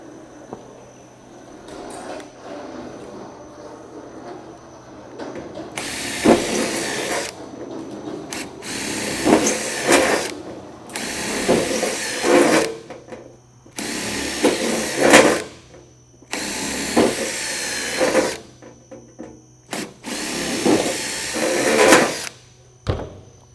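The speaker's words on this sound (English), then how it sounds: "You can either drill a series of holes" Six bursts of power drilling holes in a metal quad gutter, each a few seconds long, separated by short pauses; loud and close, with faint clatter in the gaps.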